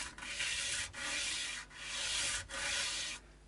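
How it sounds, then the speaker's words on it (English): Steady back-and-forth sanding of wood with sandpaper, part of a Vintage V100 guitar setup, in four even strokes with brief pauses between, close and moderately quiet with no talking. "we can just finish sanding off with a lighter grade of paper"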